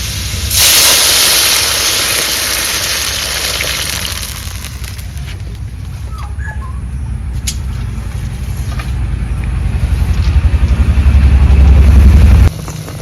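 Water is poured into a hot pan of spices fried until red, bursting into a loud, hissing sizzle that settles into a steady bubbling spatter, then swells again near the end, with no talk.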